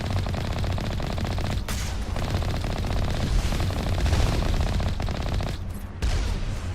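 Rapid enemy gunfire in the video game Mass Effect Legendary Edition, a dense, continuous rattle of automatic weapons close by, with a brief lull near the end before the shooting resumes.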